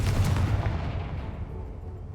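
A Confringo fire-blast spell in the Hogwarts Legacy video game lands as a single loud boom with a rumbling, decaying tail that fades over about two seconds, with no voices.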